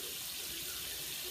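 Water runs steadily as conditioner is rinsed out of hair, a continuous close hiss of flowing water without a break.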